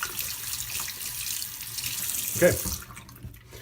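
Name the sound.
rinsing water-soluble product off under a tap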